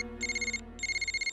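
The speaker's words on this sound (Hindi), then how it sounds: "Phone uncle." A telephone rings with a bright electronic double-burst tone, two pulsing rings close by over a low background hum, with no voices.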